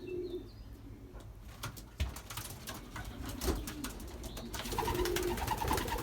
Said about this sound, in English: I believe there should be 20 birds in here